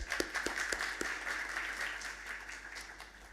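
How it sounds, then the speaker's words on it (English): Audience applause at a conference panel on AI in education, as a panelist is introduced; a few distinct claps at the start blend into steady, moderately faint clapping that continues for a few seconds. "Let's give her a round of applause"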